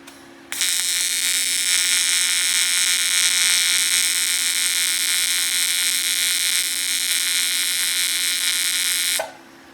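A Vulcan TIG welder holds a steady arc for about nine seconds, a loud continuous hiss and buzz with a constant hum beneath it, starting and stopping abruptly, with no talk over it.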